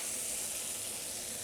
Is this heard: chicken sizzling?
yes